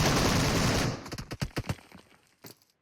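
Gunfire in the mobile battle royale game PUBG Mobile: a dense, loud roar of shooting gives way to a rapid string of sharp individual shots, then a final short burst after a pause.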